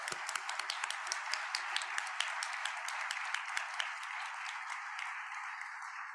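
Audience applause at a closing-remarks event: a steady crowd of many hands clapping together, continuous and fairly even for several seconds with sharp individual claps standing out, then tapering slightly toward the end.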